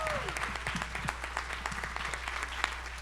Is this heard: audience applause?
yes